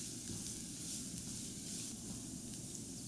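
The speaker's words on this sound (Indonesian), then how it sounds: "Panaskan sedikit minyak. Kemudian tambahkan 1-2 siung bawang putih yang udah dicincang halus. Tumis sampai harum dan agak sedikit kecoklatan." Finely minced garlic sautéing in hot oil in a pan, a steady close sizzle and hiss running unbroken for a few seconds with no talking.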